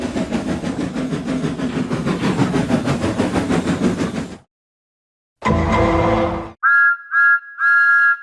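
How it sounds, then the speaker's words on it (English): A steam train whistle sounds in three sharp blasts after a rumbling passage and a brief silence, loud and close. "He had just got down to telephone for help when he heard a train approaching."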